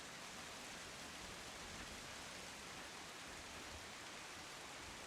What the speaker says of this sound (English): The thunder and the rain is so loud.